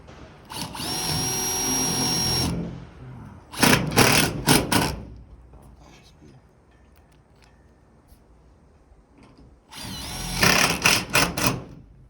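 A power drill drives screws into wood while building a covered work area or skinning shed, in three loud close bursts of whirring separated by quieter pauses.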